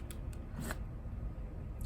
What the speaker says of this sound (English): So let's just do a fun little shuffle.